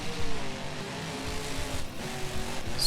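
Monster truck engine revving and roaring as it slings through cyclones on a speedway straightaway in BeamNG.Drive, a loud continuous drone with shifting pitch throughout.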